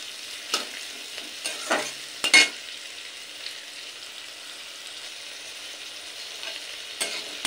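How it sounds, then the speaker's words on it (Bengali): Carrots, beans and capsicum stir-fried in a pan make a faint, quiet sizzle, with a few scattered scrapes and clinks of a spatula against the pan and long calm stretches between them. "তো এইভাবে আরও কিছুক্ষণ সবজিগুলো একটু নেড়ে নেব"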